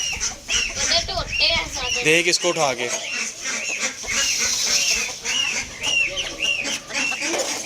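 Chickens cluck repeatedly up close, a busy rhythmic clucking while a person talks briefly over them.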